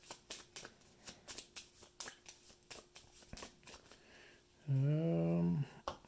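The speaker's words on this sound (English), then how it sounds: "I have to throw an age card in the deck, shuffle it up" A deck of game cards being shuffled at a table, with rapid riffling bursts in a steady rhythm, close and fairly quiet, followed by a brief voiced sound at the end.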